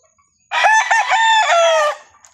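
A single loud crow from a labuyo (jungle fowl) rooster, close by, rising and holding for about a second and a half before trailing off, with no voices around it.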